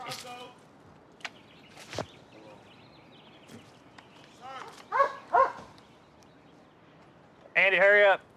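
A police K9 dog barks in a few sharp bursts, with a loud close volley near the end, amid scattered noises and people talking during a nighttime suspect search.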